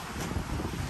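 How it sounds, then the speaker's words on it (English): Steady wind buffets the microphone on a beachfront at Jomtien, Pattaya, Thailand, with an ocean breeze producing a constant loud rumbling roar for the whole second and no voices. "right now it's nice and windy, you got the breeze coming off the ocean"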